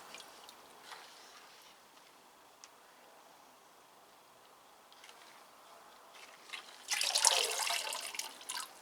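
Quiet room, then a short splashing burst of water near the end as a Phalaenopsis orchid pot with bark is dipped and lifted.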